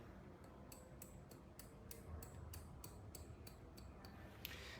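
Steel hairdressing scissors snip through a man's long hair in a quick, steady series of crisp, close clicks, about a dozen cuts in a row with no talking over them.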